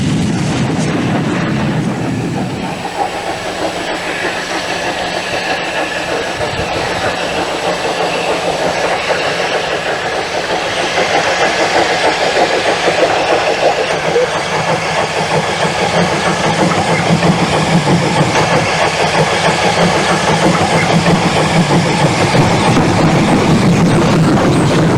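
An LSWR M7 steam locomotive runs on a single-line railway, a steady loud rumble of engine and wheels with clickety-clack that swells slightly as it nears and continues throughout, no voices.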